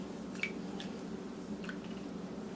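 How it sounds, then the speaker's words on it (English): Raw potatoes being rolled in a salt-water brine make faint, soft, wet squishes and light drips in a quiet kitchen, with no talking. "I'm just going to roll each potato in the salt water solution."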